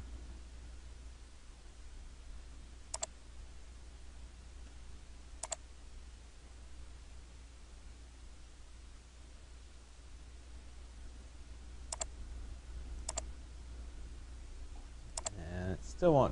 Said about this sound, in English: I'm going to click on the direct link and see if it'll do it.